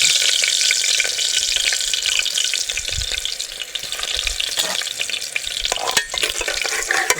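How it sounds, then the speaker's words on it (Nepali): Onions go into hot oil and fry with a loud, dense, continuous crackling sizzle, close up, with a few stirring scrapes and no voices. "अब चाहिँ म सर्वप्रथम त प्याज हाल्छु ओ तातेको रहेछ गाइज"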